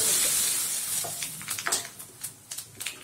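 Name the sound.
spices frying in hot oil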